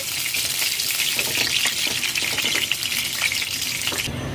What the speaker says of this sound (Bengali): এইভাবে সব ভেজে নেব